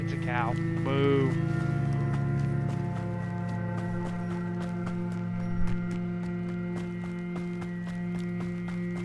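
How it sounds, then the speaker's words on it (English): A cow in the video game Hogwarts Legacy gives a couple of short rising moos near the start, over a steady droning game soundtrack with footsteps-like ticks. "It's a cow."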